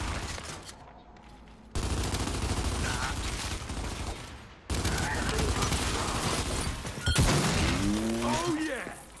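Gunfire from a jumpy, hard-recoiling gun in a Gears 5 multiplayer match bursts out in rapid fusillades, loud and close, broken by brief lulls, with game sounds and a voice nearby.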